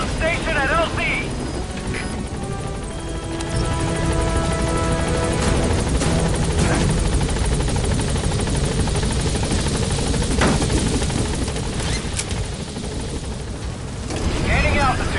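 In Metal Gear Solid V, the Pequod support helicopter arrives at a landing zone, its loud continuous rotor thrum and engine roar filling the scene, with a radio voice and other game sounds over it.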